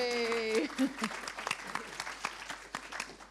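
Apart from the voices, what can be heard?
audience applause for Jen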